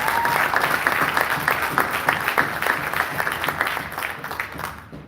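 A debate audience applauds for a speaker, the clapping loud and close at first, then thinning out and fading toward the end.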